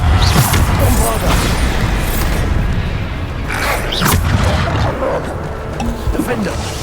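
Bombarda spell explosions in Hogwarts Legacy combat, several heavy booms and crashes spread through the fight, with a voice talking over them throughout.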